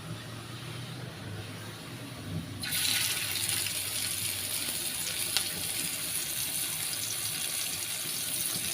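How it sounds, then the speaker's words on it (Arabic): Kofta dropped onto a hot grill pan, a sudden burst of loud, steady sizzling that starts a few seconds in and carries on evenly to the end, with softer kitchen noise before it. "هنزل بالكفته على الجريل"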